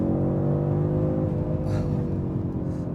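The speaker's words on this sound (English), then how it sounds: "the 5-cylinder engine in this car makes such a unique noise compared to a 4-cylinder or a 6-cylinder" Audi RS3 hatchback with a five-cylinder engine pulling hard under acceleration, a steady loud low drone with dense harmonic layers, heard from inside the car throughout with no talking.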